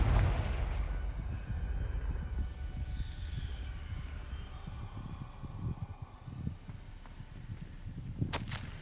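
Confringo blast spell exploding in Hogwarts Legacy, a deep rumbling boom up front that fades into a long, low, rolling rumble, ending with a short sharp crack.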